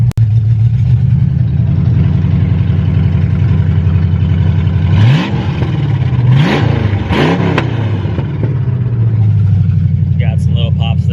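A 1968 Ford Mustang Fastback engine with a new loud exhaust idles and revs loudly up close, with a few short bursts of exhaust popping on the throttle blips in the middle.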